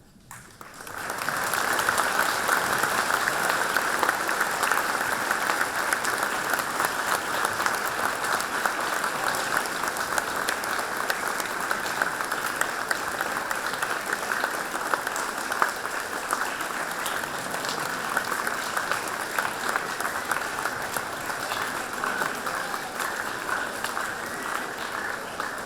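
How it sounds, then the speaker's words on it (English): A school audience at a middle school Veterans Day assembly gives veterans and military members a long, even round of applause, a dense wash of clapping that carries on for over twenty seconds. "I would like to ask all our veterans and military members to stand at this time so that we can show our appreciation with applause."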